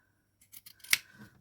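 Scissors cut through a sheet of fabric, a few quick close snips followed by one sharp, louder closing chop, with no talking.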